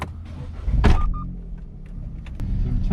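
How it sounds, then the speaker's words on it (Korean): A KF1600 formula race car at Yeongam circuit cranks and fires into a loud, close idle, with a brief whirring start followed by a deep, steady low rumble. "시동 걸겠습니다."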